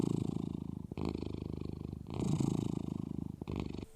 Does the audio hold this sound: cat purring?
yes